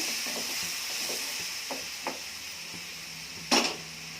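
Bitter gourd curry with freshly added tamarind pulp is stirred in a pan: a soft simmering hiss with light scrapes, then one sharper clink of utensil on metal near the end, close and quiet, no talking.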